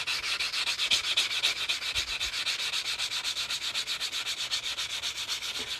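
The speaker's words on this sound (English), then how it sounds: "I'm going to sand this cut edge, make sure it's nice and smooth." The cut edge of a ring made from a 1964 silver Kennedy half dollar being sanded: close, loud, even back-and-forth rasping strokes in a steady rhythm, with no voices.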